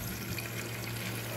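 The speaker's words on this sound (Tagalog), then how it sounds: "Lagyan po natin ng tubig." Tap water runs steadily from a faucet into a container, filling it with brine for salted eggs; a continuous, close hiss and trickle with no talk.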